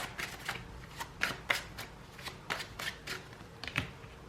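A tarot deck being shuffled and cards drawn, heard as a run of crisp, close riffles and snaps in uneven bursts, with no voice over them.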